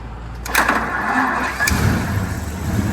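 A 1933 Auburn car started with the key: a brief cranking click, then the engine catches and runs with a steady low rumble, close and fairly loud.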